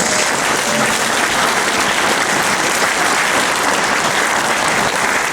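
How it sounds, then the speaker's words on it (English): Loud, dense applause fills a hall at a Pacific cultural concert in Wellington as an audience cheers an opera singer, a continuous even roar of clapping holding steady throughout. "Another round of applause, please, for Xavier Kraus."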